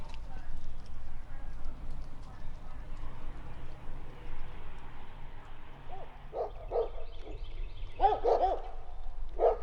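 Dogs barking in a small, old American town, several sharp barks at a distance arriving in bursts near the end over steady outdoor background noise.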